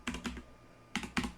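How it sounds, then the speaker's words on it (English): Two quick bursts of computer keyboard typing, a pair of clacks, a pause, then another pair, close and fairly quiet with no talk. "I'm typing on here right now."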